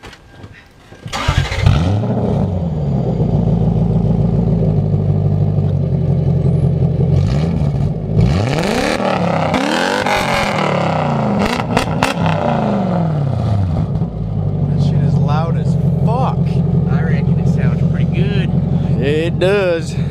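A car engine fitted with a new big chrome exhaust tip starts and revs repeatedly, the throaty note rising and falling in several loud pulls, with voices talking over parts of it.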